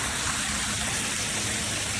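Steady, broadband rush of a waterfall at Nelson-Kennedy Ledges State Park in Ohio, heard from the top of the falls along a hiking trail, a constant loud wash with no pauses and no voices.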